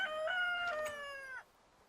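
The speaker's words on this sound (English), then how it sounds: "The rooster is still alive." A rooster in the video game TerraFirmaCraft gives one drawn-out crow of several rising and falling notes, clear and moderately near, with no talk over it.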